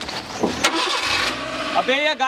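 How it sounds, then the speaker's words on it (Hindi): A vehicle engine cranks and catches, then runs with rising revs in a village, loud and close, with shouting voices over it. "अबे ये गाड़ी किसने चालू की?"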